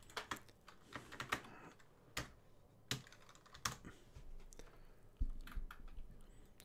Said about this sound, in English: Let's type in CGC and see if that makes a difference.